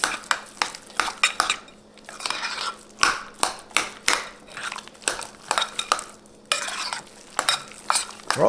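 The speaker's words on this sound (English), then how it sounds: "I'm going to mix this all up." A spoon stirs a keto lasagna meat mixture with crushed red peppers in a pan, making steady, close scraping and clinking strokes in a quick, even rhythm.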